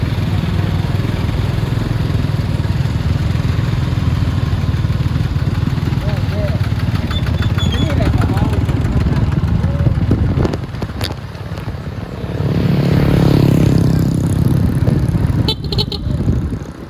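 A farm tractor's engine rumbles close by at a village gathering in Thailand, running steadily throughout while voices talk and other vehicle noise passes.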